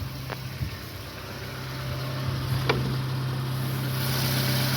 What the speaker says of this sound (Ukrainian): послухаємо, як працює двигун.